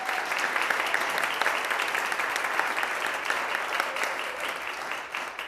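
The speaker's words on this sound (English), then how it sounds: "Let's give her a round of applause." Steady applause from an indoor audience at an Oklahoma City City Council meeting, a continuous wash of clapping that holds for several seconds before easing slightly at the end.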